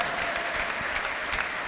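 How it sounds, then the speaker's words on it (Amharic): A church congregation claps and applauds steadily, a dense wash of hands filling the space throughout, with faint voices mixed in. "ከዚህ በላይ አጨብጭቡ አጨብጭቡ"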